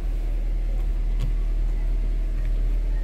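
A used car's engine idles during a pre-purchase inspection, a steady low rumble that holds evenly throughout at close range with no voices over it.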